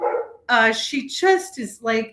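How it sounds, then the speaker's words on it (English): Several dogs at home barking in the background, intermittent and somewhat distant beneath someone talking through most of the clip. "You can hear my other ones right now barking around."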